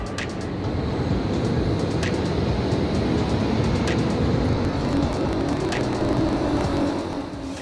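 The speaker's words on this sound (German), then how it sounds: "Kurz nach 19 Uhr fährt der Zug auch schon ein." A night train rumbles into a station with a steady low roar, with faint regular clicks of wheels over rail joints, fairly loud and continuous.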